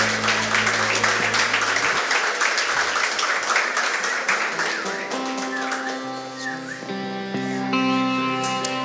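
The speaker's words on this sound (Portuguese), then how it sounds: "Aplauda o nome do Senhor." Congregation clapping at a live worship service, dense applause filling the first two seconds, then fading under sustained worship music with keyboard tones.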